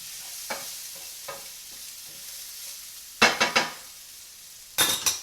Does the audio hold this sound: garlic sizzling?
yes